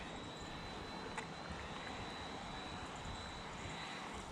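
A small ready-to-run RTR Hobby mini RC helicopter flies at full throttle, its faint, steady motor whine continuous under broad outdoor background noise.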